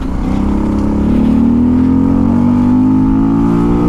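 A Honda XRE 300 motorcycle carrying a passenger accelerates hard, its engine note climbing steadily in pitch, loud and close, with no talk over it.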